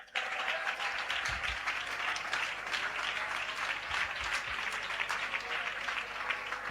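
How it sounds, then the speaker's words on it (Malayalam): A church congregation claps hands together in sustained, dense applause during a worship service, loud and steady throughout with no talking. "ഒന്നുകൂടെ നമുക്ക് കൈയടിച്ച ശക്തിയോട് ദേശം കേൾക്കട്ടെ സ്തോത്രത്തിന്റെ ശക്തി."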